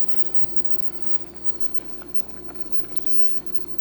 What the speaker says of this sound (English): Alright, let's stir this up.